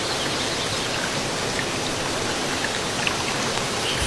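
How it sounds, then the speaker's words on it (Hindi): Jogmandi waterfall rushes beneath a bridge as a steady, dense roar of falling water, loud and unbroken throughout with no voices. "एग्जैक्ट इस ब्रिज के नीचे जो है वो है जोगमंडी झरना"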